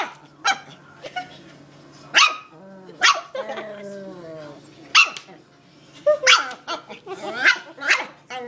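A dog barks at its own reflection in a mirror in sharp bursts, some growly and yipping, close by, with pauses between the outbursts.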